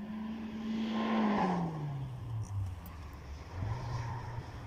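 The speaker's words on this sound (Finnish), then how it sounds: "Taas joku ajaa moottoripyörällä tuolla, mikä on hitusen ärsyttävää" A motorcycle passes somewhere outside, its engine note rising and then dropping away as it goes by, moderately distant and fairly quiet, with no talking.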